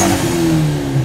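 Nissan S14 drift car with an SR20 engine revving on the street, a loud, close, sustained engine note whose pitch sags slightly and then rises over about a second.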